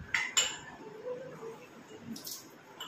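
Metal tiffin boxes in a home kitchen, freshly washed, clink and clatter in a couple of sharp knocks as they are lifted, then fainter rattles, fairly close with no talking.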